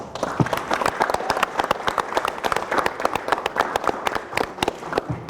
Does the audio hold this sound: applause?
yes